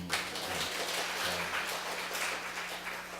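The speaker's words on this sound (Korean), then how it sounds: "박수 한번 해" Congregation applauding during a Sunday church service, a steady dense patter of many hands filling the space at moderate loudness throughout, with no speech over it.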